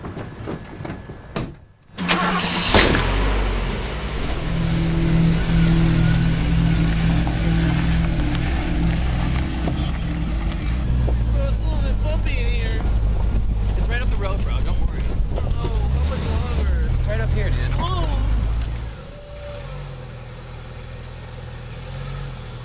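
A car engine cranks and catches, then runs steadily at a low rumble for a long stretch before settling to a quieter idle, close and loud, with a faint whine over it.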